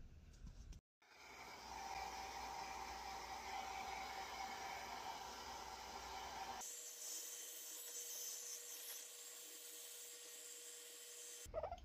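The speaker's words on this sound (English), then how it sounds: "But a hair dryer is much faster and some piggies don't seem to mind it." A hair dryer blows steadily while drying a guinea pig, a soft continuous whooshing drone that cuts out briefly near the start and shifts to a brighter, hissier tone partway through.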